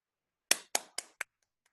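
Four sharp, sparse claps in quick succession after a lecture, close and fairly quiet, with only a faint trace of a couple more after them.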